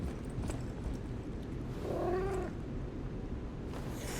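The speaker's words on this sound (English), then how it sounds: "they made a little cat sound" A cat in a video game gives a short, soft meow with a rising-falling tone, heard once over a steady background of game noise.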